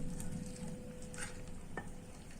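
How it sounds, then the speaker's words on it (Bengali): Oat and banana batter stirred with warm milk in a bowl, a soft, steady wet scraping and swishing with a faint clink partway through, quiet and with no talking. "ভালো করে ওটা মিশিয়ে নিই।"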